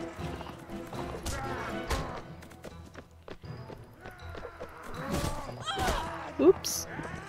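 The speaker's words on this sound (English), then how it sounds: "Attack my poor bloody horse." Horse hooves clop and a horse neighs during combat in the video game Mount and Blade Warband, with irregular thuds and a sharp whinny near the end, and someone talks throughout.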